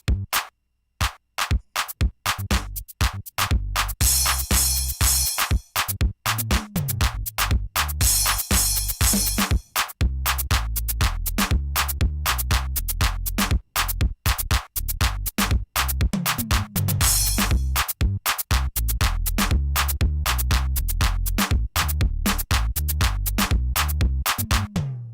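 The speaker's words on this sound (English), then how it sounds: "the bass sounds like this" A bass line played on a keyboard or piano for a gospel song intro, with steady low notes over a full, dense musical texture that runs throughout, loud and continuous with no talking.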